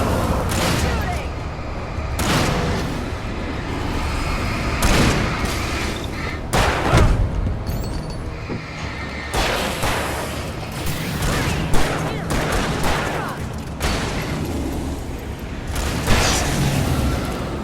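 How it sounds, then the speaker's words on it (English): Gunfire bursts in the video game Alan Wake Remastered, a run of loud repeated shots and booms, sharp transients scattered across the stretch amid game sound, with voices talking over parts of it. "Shooting!"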